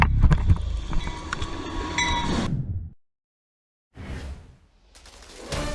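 A train rumbles past a level crossing, loud and close with metallic rattling for about three seconds, then cuts to silence before bursts of rushing noise return.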